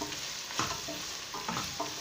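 Kabsa being stirred in a frying pan, a soft continuous sizzle with a few scraping spoon strokes, faint and close, with no one speaking.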